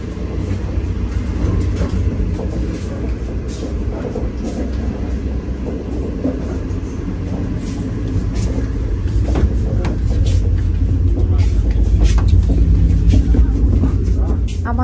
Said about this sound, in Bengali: এই ট্রেনটা 7:22-এ ছেড়েছে